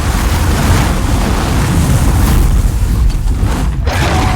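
Dragon fire sweeping past in Demon's Souls Remake on PS5, a loud continuous roaring whoosh of flame that tails off near the end.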